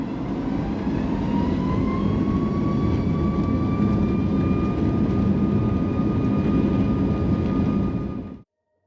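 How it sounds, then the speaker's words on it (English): The engines of a Boeing 737-8 MAX roar steadily and loudly, a rising whine climbing in pitch as they spool up for takeoff, before the sound cuts off suddenly. "let's take off and comment below how you think the new engines sound when they spool up"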